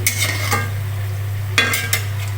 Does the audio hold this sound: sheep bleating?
no